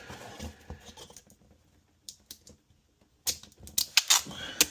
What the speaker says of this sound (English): Then I'll take my tape,